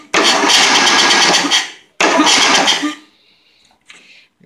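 A rebuilt small engine with little compression is cranked twice in close succession. Each is a rough, loud churn lasting over a second, and neither catches, followed by quiet fuel-system fiddling and a faint hiss.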